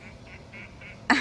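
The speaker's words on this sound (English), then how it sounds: "the ducks are already arguing who's going to have their first go on it" Several ducks quack around a newly built duck house, a short series of nasal quacks at a moderate distance, ending in a sudden louder, harsher squawk.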